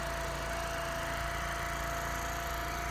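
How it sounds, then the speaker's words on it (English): A 1985 Honda Elite 250 scooter idles a bit high after restoration, a steady, even engine drone with a faint constant whine, holding unchanged with no talk. "right now she's idling a bit high"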